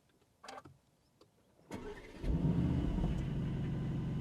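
A new Aston Martin Vantage starts up: a couple of quiet clicks, then the starter cranks and the engine catches with a bark, settling into a loud, steady, rumbling idle close by.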